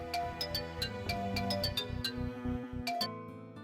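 A mobile phone rings with an incoming call, playing a bright electronic melody of repeated chiming notes over a rhythmic backing, steady and fairly loud with no voices.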